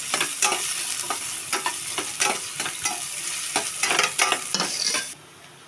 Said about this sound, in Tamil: வெங்காயம் வெட்டி வச்சுருக்கிறத நல்லா அதோட சேர்க்குறோம். நல்லா கோல்டன் ப்ரௌன் கலர் வர அளவுக்கு கொஞ்சம் நல்லா எண்ணெயிலே வதங்கட்டும்